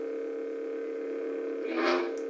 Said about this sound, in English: each sound font has its own different sound for changing the colors